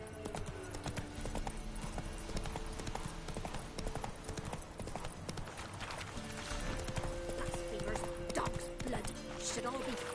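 Roach, a horse in The Witcher 3, gallops in a steady rapid clip-clop of hooves under game music and spoken dialogue, running on for the whole stretch.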